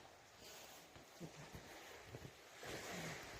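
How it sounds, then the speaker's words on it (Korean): Ocean waves wash against the rocks beside the Igidae coastal walkway in Busan, a continuous broadband surge with wind that swells louder near the end, and faint voices and footsteps are heard in between. "저 파도 소리 들려요"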